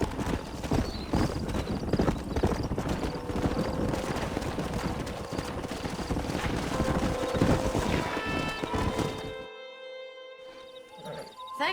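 Horse hooves clip-clopping steadily at close range in the game Red Dead Redemption, a continuous rhythmic trot with faint ambient tones underneath, ending abruptly in brief silence followed by soft musical notes.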